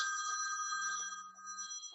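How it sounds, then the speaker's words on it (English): A telephone rings steadily indoors, a bright electronic tone held at even volume with a brief dip near the end. "someone's trying to phone me"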